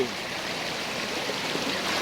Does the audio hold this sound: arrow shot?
no